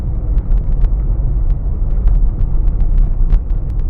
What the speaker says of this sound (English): So you can see how bad this road is, and we're traveling on it at about 70 kilometers an hour right now